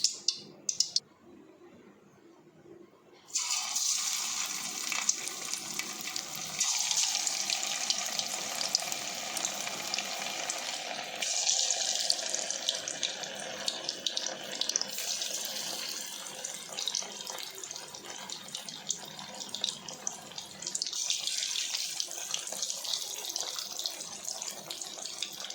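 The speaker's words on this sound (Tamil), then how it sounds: "ஒரு கடாயில் கொஞ்சமாக எண்ணெய் ஊற்றி எண்ணெய் காஞ்ச பிறகு ஒவ்வொன்றா போட்டு நம்ம பொரித்து எடுக்கலாம்." Anchovies fry in a small amount of hot oil in a kadai, giving off a dense, continuous sizzle and hiss that lasts throughout, close and fairly loud after a brief quieter opening.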